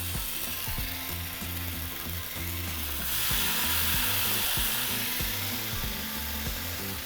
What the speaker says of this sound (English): we're going to begin by cooking our bacon.